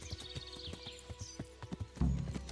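Horse hooves pounding in a steady galloping clip-clop rhythm in the medieval video game Kingdom Come, close and fairly loud, with a short snort or whinny-like burst near the end.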